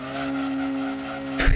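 A TVR Chimera in Gran Turismo 2 crossing the finish line, a steady loud engine drone holding one tone before a brief burst of noisy tire squeal near the end, with no talking.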